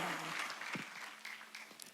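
A church congregation applauds during a Sunday worship service, a short burst of clapping that carries briefly and then thins out, with no speech over it.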